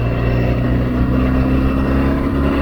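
A motorcycle engine drones loud and steady at close range throughout while riding on winding roads, a continuous unbroken hum with no pauses.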